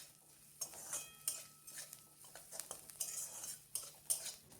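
Onions with turmeric and salt are stirred in a pan for bread upma, with a spoon repeatedly scraping and clinking against the metal over a faint, quiet sizzle. The strokes come irregularly and close by.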